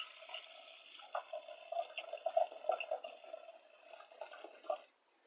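Cooking water from a fish biryani preparation is poured off into a bowl, soft irregular trickling and dripping splashes, fairly faint and close, ending abruptly near the end.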